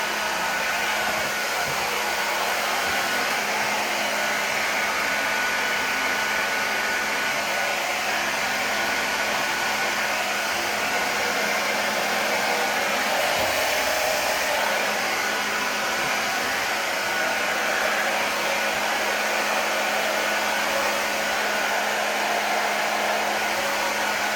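A hair dryer blow-drying long curly hair runs as a loud, steady, continuous whoosh for the whole stretch, with no talking.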